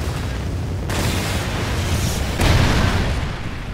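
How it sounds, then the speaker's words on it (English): Booming Trinity rocket explosions fill a multiplayer shooter match on a prison map, with heavy low rumbles and a fresh loud burst midway through, layered over continuous battle noise. "Friendly Trinity rocket inbound."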